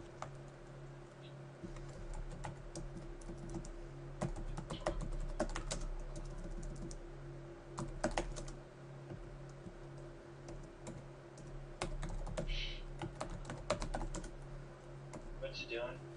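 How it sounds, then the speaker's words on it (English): Rapid computer keyboard typing clatters in bursts of sharp keystrokes at close range, with irregular rhythm and brief pauses, over a low steady hum and faint background noise. "God, this is a lot of typing."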